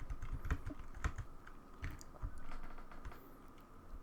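Fast, close clicking of a computer keyboard while working in Goat Tracker, irregular taps and a few sharper key strikes continuing throughout.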